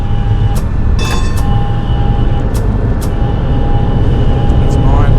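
Simulated European tram running in City Transport Simulator on a Newcastle-style route, a steady loud rumble with brief high squeals and clanks, with someone talking over it.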